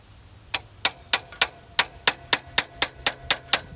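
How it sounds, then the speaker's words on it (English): A chisel is struck repeatedly to bust a stuck part loose, giving about a dozen sharp metallic clanks in an even rhythm, close and distinct over a quiet background. "I don't want to smash my screwdriver, so I think I'll just use the chisel"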